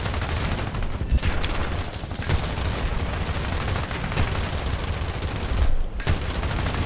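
Rapid, dense Bf 109 cannon and gun pod fire in a flight combat video game, a loud continuous fusillade of booming shots with deep low-end thump that barely lets up.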